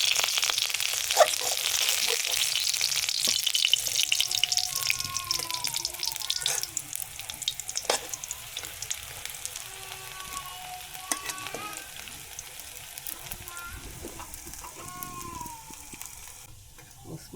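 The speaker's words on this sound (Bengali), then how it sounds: "মসমসে বড়াগুলো ভেজে নেওয়া হলো" Water lily flower fritters sizzle and crackle as they deep-fry in hot oil, a bright steady hiss with occasional light clinks and scrapes, no voices.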